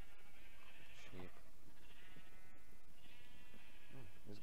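Sheep in the Minecraft video game bleat repeatedly at a farm pen, with several nasal, wavering calls spread through the clip at moderate volume.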